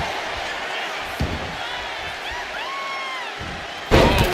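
A heavy slam lands at the end as a wrestler's splash hits the mat in the WWE 2K26 video game, an intercontinental championship match. It comes after a quieter stretch of arena ambience with a crowd murmuring and an earlier lighter thud.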